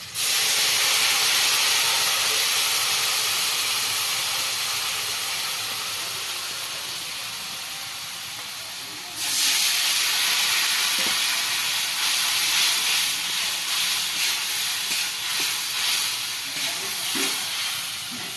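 Spice paste for a rohu fish curry goes into a hot pan and sizzles, a loud steady hiss that slowly fades and then flares up again as the paste is stirred.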